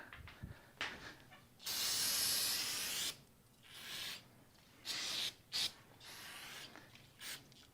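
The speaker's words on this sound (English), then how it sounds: "We could try a little carb cleaner." Aerosol can of carb cleaner sprayed onto a vintage Honda CB350 motorcycle gas tank to loosen adhesive: several hissing bursts of varying length, one long spray then shorter puffs, fairly close amid a quiet room.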